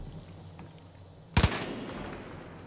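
Gunfire in the Far Cry 5 video game: a sharp, loud burst of two or three quick shots partway through, ringing out into a lingering tail over quiet game ambience.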